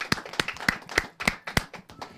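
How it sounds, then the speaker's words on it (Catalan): Audience clapping at a Catalan Tió Christmas event, a few people clapping roughly in time, crisp close claps at about three per second with softer scattered claps between. "fem un aplaudiment"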